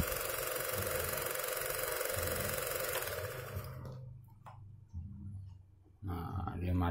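A self-running free energy generator with a spinning rotor and Li-ion battery gives a steady, dense mechanical whir that cuts out partway through, then comes back briefly among short knocks and a voice speaking nearby.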